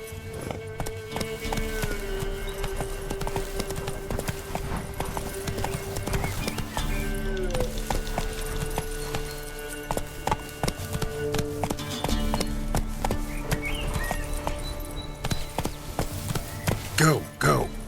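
Hooves of Roach, a horse galloping in The Witcher 3, drum in a steady rapid clip-clop rhythm, loud and close, over continuous background music and game sound, with a brief whinny near the end.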